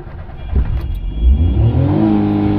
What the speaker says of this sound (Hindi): गाड़ी को स्टार्ट करके पूरा एक्सीलेटर धरते हैं तो गाड़ी हमारी 6000 रुपये चली जाती है।